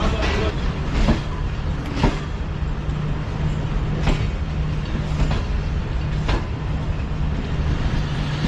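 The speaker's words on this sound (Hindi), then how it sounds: "पहला स्टॉप गोजर खान ट्रेन आके रुकी" Tezgam passenger train pulling into a busy station and stopping, a steady rumble with a low hum and a series of sharp clanks and squeals from the cars, loud and close throughout.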